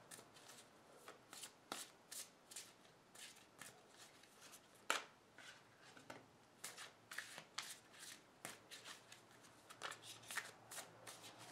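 Tarot cards are shuffled close up in quick, crisp riffling bursts with short pauses between them, soft and steady throughout, with no talking.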